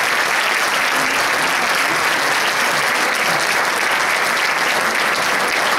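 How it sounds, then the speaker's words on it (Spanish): Audience at an arts school graduation ceremony clapping loudly and continuously, a dense, even wash of applause from a large crowd. "Un aplauso, por favor, para que estén."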